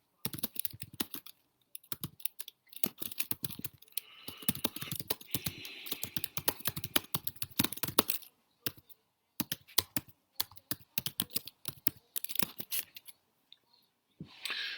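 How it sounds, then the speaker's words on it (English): Someone types on a computer keyboard, a steady run of close, crisp key clicks in bursts with short pauses between, going on for much of the time, with a voice occasionally heard faintly beneath. "I'm writing that in the comments right now."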